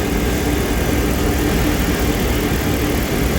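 A 2011 RAM 1500 pickup's 5.7-litre HEMI V8 idles steadily, a loud, close, even engine rumble with no pauses or other sounds, from a truck whose cylinder 1 ignition coil keeps shorting.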